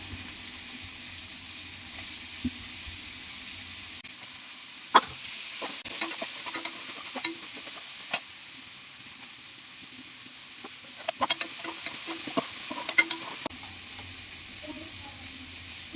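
Onions and tomato fry in a pan for prawn kulambu, a soft sizzle broken by irregular scraping and clinking as a utensil stirs, with quieter pauses between bursts.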